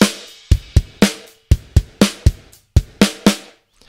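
Drum kit preview from the BFD Player 80s Lover preset: a punchy groove of kick, snare and cymbal hits with roomy decays, about a dozen strong strikes in a steady pattern, loud and alone.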